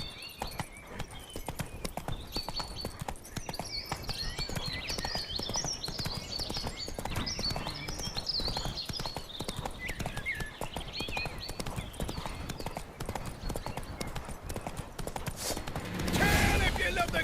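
Roach, the horse in The Witcher 3, galloping with rapid continuous hoofbeats, close and loud, over game ambience with brief vocal sounds, ending in a sudden burst of louder noise.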